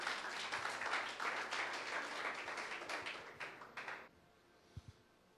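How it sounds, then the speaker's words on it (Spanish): A church congregation stands and applauds, the steady clapping carrying for about four seconds before stopping abruptly, followed by near silence with a couple of faint taps. "dele un aplauso al Señor"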